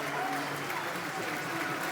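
Football crowd at a Millwall versus Burnley match applauding a substituted player, a steady wash of stadium clapping and crowd noise with a commentator talking over it.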